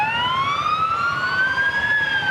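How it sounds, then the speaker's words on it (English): Sirens wail continuously to mark the start of a 4th of July hometown parade in Waupaca in 1993, with several rising and falling tones overlapping loudly and steadily throughout. "the sirens going off to signify the start of the 46th annual Waupaca"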